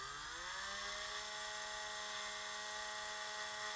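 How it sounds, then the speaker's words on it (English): Small drill bit whirring steadily as it bores back through a hole in a toy action figure during a joint repair, a high-pitched continuous whine that settles in pitch after a brief spin-up, close and loud with no talking. "Let's use our smaller drill bit to kind of go back through the larger hole."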